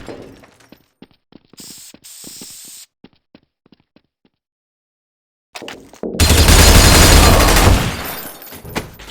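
Rapid automatic gunfire from the video game Counter-Strike: Source bursts in loud and dense after scattered clicks and a silent gap, continuing as a sustained roaring volley to the end.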